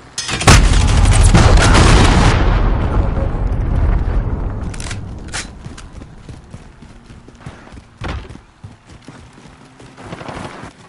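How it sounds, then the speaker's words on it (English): Cruise missile strike explosions in a video game, a loud booming blast with a long rumbling roll that fades over several seconds, followed by scattered fainter impacts. "Enemy cruise missile incoming!"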